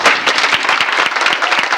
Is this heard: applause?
yes